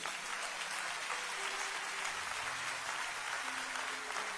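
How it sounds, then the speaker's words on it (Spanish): Church audience applause, a dense continuous wash of clapping from a crowd, faint and distant, with soft musical tones sounding beneath it. "Vamos a darle un aplauso a Dios"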